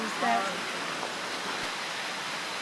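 Steady, dense rush of a mountain-valley waterfall at night in rain, Yongmun Falls on Gyeryongsan, a constant even roar with no pauses.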